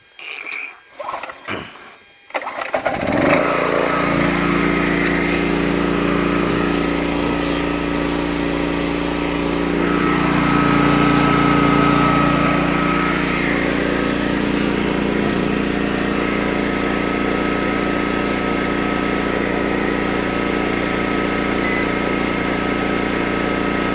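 A mitre saw powered by a 2000 watt inverter starts after a few clunks and settles into a steady loud motor whine and hum, continuing evenly to the end without speech.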